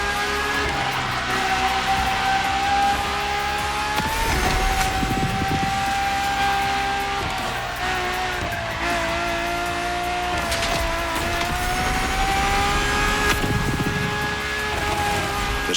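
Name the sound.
Ferrari V12 hybrid supercar driving in video game The Crew Motorfest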